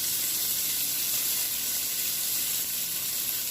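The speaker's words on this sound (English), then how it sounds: "Now I'm going to give it a good sear on this griddle." Shrimp searing on a hot griddle in rosemary oil gives a steady, loud, close sizzle with a bright hiss that holds unbroken throughout, with no talking.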